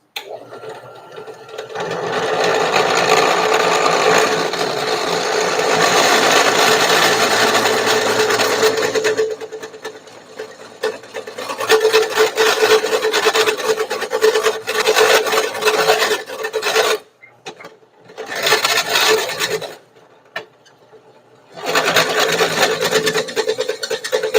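A drill grinds loudly through metal with a harsh, rasping whine that runs steadily, then cuts in and out in bursts with brief pauses; an old, worn drill bit boring a gear shifter.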